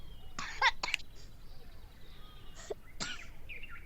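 A person coughs in a few short, sharp bursts close by, with quiet background between them.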